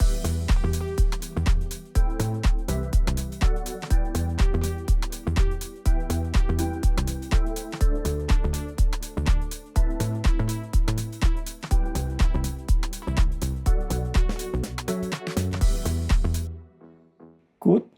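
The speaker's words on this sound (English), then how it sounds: "for this we using this plug instrument from the UNISYNTH" A pluck synth pattern from the UNISYNTH plugin plays groovy chords, with short bright notes repeating in a quick steady rhythm and decaying fast, before stopping near the end.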